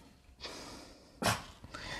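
A dog sneezes twice, two sharp, close bursts about a second apart, with a quieter snort-like breath just after.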